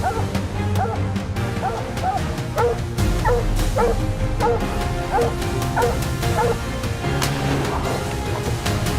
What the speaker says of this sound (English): One of the dogs broke formation and charged into the dense underbrush, barking furiously.